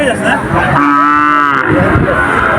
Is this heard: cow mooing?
yes